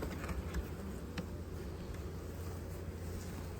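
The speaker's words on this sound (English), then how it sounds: "look at all those bees" A dense, steady buzzing of many honey bees at a hive fills the clip, a continuous low drone with no voices present.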